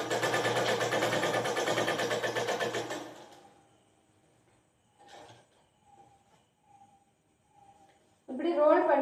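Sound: sewing machine stitching cloth

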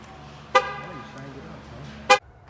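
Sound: car horn chirp when locking the car

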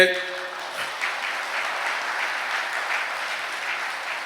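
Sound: congregation clapping hands

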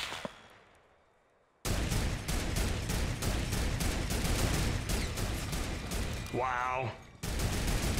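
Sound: turret gunfire in Fortnite video game

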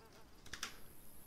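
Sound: voice imitating a mosquito buzzing

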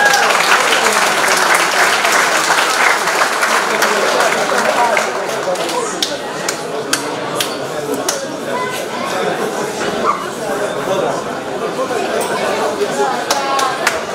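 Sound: audience applause at a boxing event

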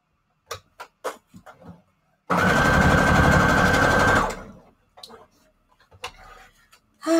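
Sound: sewing machine stitching paper scrap strips

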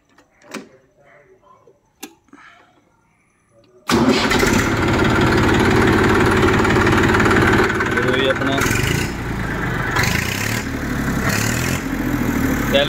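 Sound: Massey Ferguson 241 tractor engine idling

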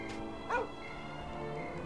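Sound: puppy barking in the video game Dragon Quest 8

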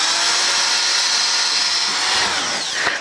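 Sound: drilling pilot holes in plywood floor over a joist

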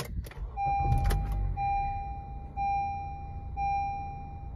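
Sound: 2016 Honda Accord Sport engine starting up

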